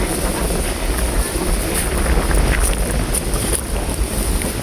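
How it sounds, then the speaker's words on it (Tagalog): Loud wind buffeting the microphone, a continuous rushing roar with low rumbling gusts and no talking. "Ayan, lakas ng hangin."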